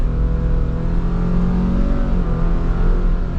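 A 2024 Subaru Crosstrek Limited's engine pulls away under acceleration in sport mode, a steady loud drone heard from inside the cabin with a gently rising hum and no speech.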